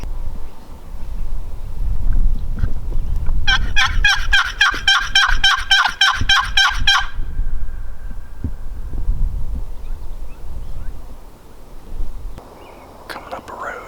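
A rapid, rattling wild turkey gobble rings out for a few seconds over steady low outdoor rumble and faint background noise, in Oregon woods.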